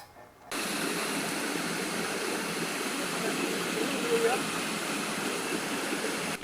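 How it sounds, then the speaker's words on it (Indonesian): River water rushing and being sucked down into a 1.5-meter sinkhole in the middle of the Tenggong River in Blitar, a steady broadband roar that starts abruptly and holds loud and continuous throughout. "Besarnya lubang tersebut membuat air sungai tersedot."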